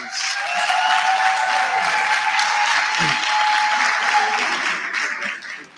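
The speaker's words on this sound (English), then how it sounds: "Can we give a round of applause to ourselves?" An audience at a national student representative council induction applauds in a dense, sustained wash of clapping that stays strong for several seconds, with crowd voices mixed underneath.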